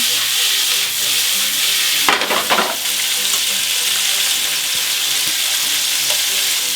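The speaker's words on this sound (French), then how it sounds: "Le saumon dans la poêle" Salmon frying in a pan for a quick salmon pasta dish, a loud close steady sizzle and hiss with a brief burst of crackling spatter partway through, no voices.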